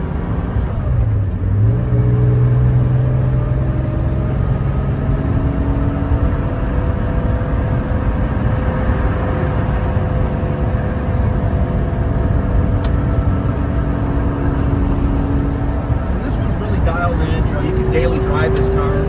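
A 1983 Porsche 911SC coupe cruises on a freeway, its engine note and road roar steady and loud throughout, with shifting whining tones as it pulls, while someone talks over it.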